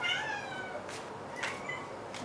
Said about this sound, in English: I don't know if you guys can hear Oliver meowing.